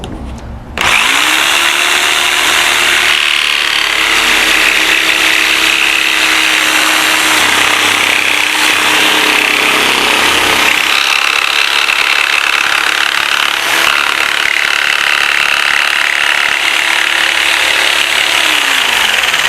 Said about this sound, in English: I want to turn the jigsaw and come on out the back side, leaving that little bit in the bottom